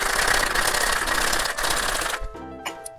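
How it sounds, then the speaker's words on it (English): Ice rattles hard inside a cocktail shaker while an apricot rum daiquiri with lime juice is mixed, a fast, steady clatter lasting about two seconds before stopping abruptly, followed by a few faint knocks. "Add your ice and give it a shake"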